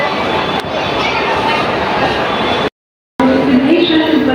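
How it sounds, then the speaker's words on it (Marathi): A train arriving at a Mumbai station rumbles loudly nearby with a steady roar and a rising metallic squeal toward the end, people talking faintly over it, broken by a brief cut-out. "ट्रेन आलेली आहे."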